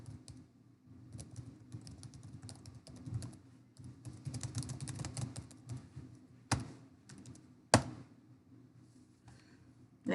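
Code being typed on a computer keyboard during a C# programming session: steady, quiet clicking of keys in irregular bursts, with a couple of louder sharp key strikes, close up and without talk.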